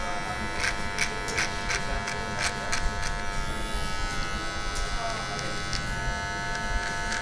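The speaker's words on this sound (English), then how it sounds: "So I'm just using the corner of the detailers just to give it more of a natural kind of finish." A beard detailer trimmer buzzes steadily as a barber tidies a moustache in a barbershop, with soft talk in the background.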